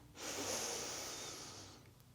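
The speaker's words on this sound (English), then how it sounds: "Taking a breath in." A single long, airy breath is drawn in slowly during a gentle stretching exercise, soft and close, lasting nearly two seconds before fading, with no talk.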